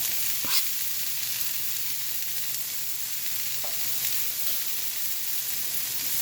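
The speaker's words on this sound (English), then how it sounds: "So we're going to let this saute a little bit." Sliced green, red, yellow and orange bell peppers with white onion sauté in a pan, giving a steady, close sizzle with a few soft clicks of stirring, alone and without talk.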